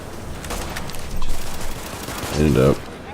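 SMG gunfire from the video game The Division comes as rapid bursts of shots, rattling fast and fairly loud. A voice briefly speaks over the gunfire near the end.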